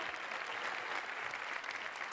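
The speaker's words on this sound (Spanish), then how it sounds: "Aplausos, Rei Urco, bravo" An audience applauds at a murga contest semifinal in Pontevedra, with dense, continuous clapping that holds steady and sounds distant and soft throughout.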